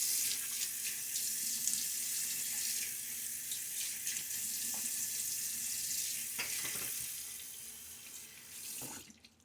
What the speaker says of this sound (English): Most of that rinsing I did just there was my hands and arms